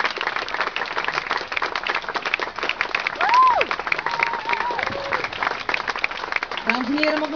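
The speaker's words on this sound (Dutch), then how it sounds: "mag een geweldig applaus voor de Franz von Chossy trio" An audience at the North Sea Jazz festival applauds a jazz trio with steady, dense clapping throughout, while a voice speaks over the applause.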